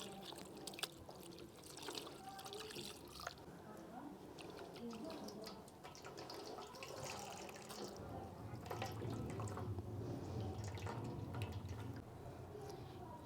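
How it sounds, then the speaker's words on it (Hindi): Room-temperature water poured over food in a kitchen to rinse out vinegar, a soft continuous trickle and splash that grows fuller toward the end, with talking over it. "और अब रूम टेम्परेचर पे पानी लेके वो इसके ऊपर डालेंगे, ताकि जो सिरका है ना उसकी खटास निकल जाए।"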